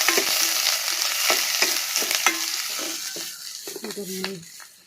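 Onions sauté in a pan for radish sambar, with a continuous sizzle and intermittent scraping stirs of a spatula close by, loud at first and easing off.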